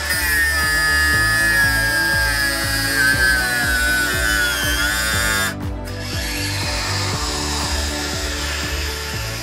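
A Parkside 20V cordless angle grinder with a 125mm disc runs loud and close with a high whine, a steady motor hum underneath and repeated rhythmic grinding pulses, and it briefly dips partway through.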